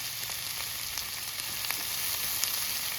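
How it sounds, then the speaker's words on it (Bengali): Pangas fish curry spices with fried potatoes and sugar being stirred in a hot pan: a steady crackling sizzle with faint scraping taps, close and uninterrupted. "এবার একটু নেড়ে নেব।"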